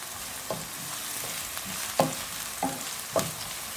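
Crushed ginger and garlic fry with onions in hot oil for matar pulao, a steady close sizzle broken by several clinks of a spoon stirring against the pot.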